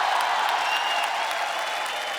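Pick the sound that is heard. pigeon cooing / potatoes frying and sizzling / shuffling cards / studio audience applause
studio audience applause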